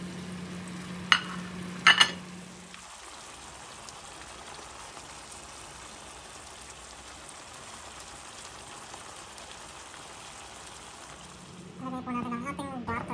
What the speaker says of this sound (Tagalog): Simmer it till tender